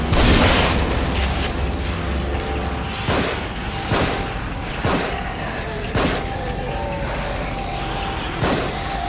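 An explosion erupts in The Evil Within, opening with a heavy booming blast, followed by a series of sharp, evenly spaced bangs and pops over a rumbling backdrop.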